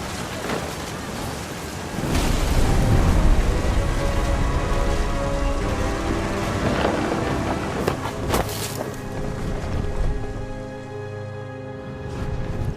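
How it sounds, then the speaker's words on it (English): Thunder rumbles with steady rain and wind in the video game What Remains of Edith Finch, a loud, continuous wash with deep rolling swells and no talking. "Thunder sounded much too close and full of angry power."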